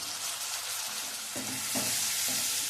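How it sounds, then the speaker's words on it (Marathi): Soaked peanuts and chana dal are sautéed in a pan with a greens dish, a soft frying hiss broken by three or four clear scraping stirs toward the end and no voices. "छान परतून घ्यायचं आहे"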